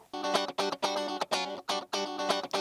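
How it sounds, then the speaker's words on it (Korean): Bright, heavily processed electric guitar chords strummed in short rhythmic bursts with brief gaps, loud and close, with a distorted, effected tone. "기타 소리 들려줄게요."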